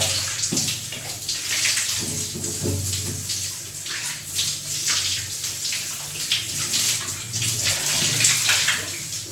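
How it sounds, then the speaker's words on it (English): A shower runs with hot water from a geyser mixed with cold water from a tank, a loud, continuous close spray hissing steadily throughout, no talk over it. "another stream of cold water is coming directly from the tank and that is mixed and coming from the shower"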